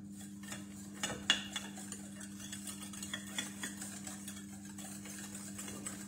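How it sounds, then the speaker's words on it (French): Whisk or spoon stirring flour, baking powder and sugar in a bowl for pineapple biscuits, soft scraping and light taps over a steady low mechanical hum. "on va déjà venir mélanger tout ça"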